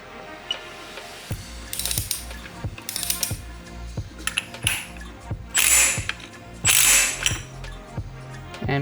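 A clutch being fitted back into a 2020 Triumph Speed Triple RS 1050 engine: close metallic clinks, taps and ringing pings from parts being handled, broken by louder rattling, clattering bursts.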